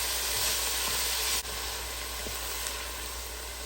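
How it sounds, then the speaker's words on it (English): Vegetables sautéing in a 6-quart Instant brand Dutch oven make a constant close hissing sizzle, steady and moderately loud, with a brief dip and faint utensil taps. "I just didn't wait till it was quite 400 degrees to saute my veggies."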